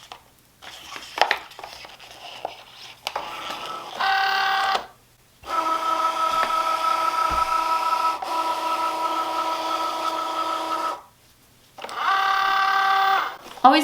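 A Cricut Joy cutting machine feeding in material without a mat, giving steady buzzing motor runs in several bursts separated by short pauses, with some clicks and handling noise at the start, heard close.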